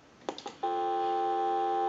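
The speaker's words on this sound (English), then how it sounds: "give you some dial tone" A steady telephone tone picked up at the receiver capsule of a Harris TS22 lineman's test set comes in loud and clear after a few brief clicks and holds unbroken to the end.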